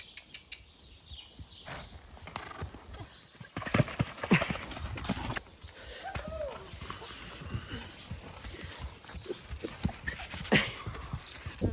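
Hooves of an off-the-track Thoroughbred clip-clop in a steady rhythm while it is ridden outdoors, with wind and bursts of talking and shouting over them.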